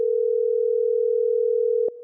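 A steady telephone dial tone hums while calling a house, one continuous unbroken pitch that cuts off with a small click near the end, alone and clear.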